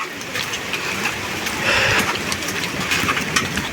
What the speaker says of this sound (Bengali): বৃষ্টি কিছুটা কমেছে